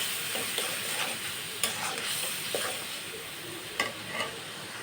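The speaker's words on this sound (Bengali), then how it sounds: "এখন আমি মশলাটা ভালো মতো কষাবো।" Spice masala of chili powder, coriander powder and salt sizzles in a pan while being stirred for a Bengali pabda fish curry with eggplant, a steady hiss broken by scattered scraping clicks of the spoon.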